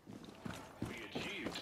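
Horse hooves clip-clopping in the video game Far Cry 6, a few quiet, irregular thuds mixed with brief faint voice-like tones, soft and close.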